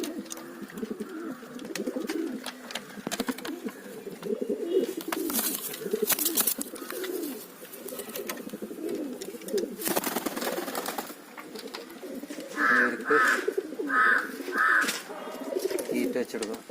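Domestic pigeons coo softly in their nest, repeated low throaty calls that grow clearer near the end against light background noise.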